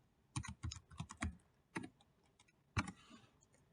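Quick keystrokes on a computer keyboard: a burst of about eight clicks, a short pause, a single tap, then one firmer final press, close and clear with no voices.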